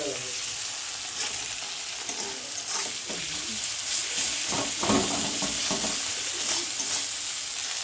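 Tomatoes fry with cumin powder in a pan with a constant close sizzle, while a spoon stirs and scrapes at irregular moments.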